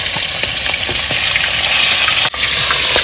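Fish fries in hot oil with a loud, dense, continuous sizzle close by, a few faint scrapes and one brief dip partway through, no voices.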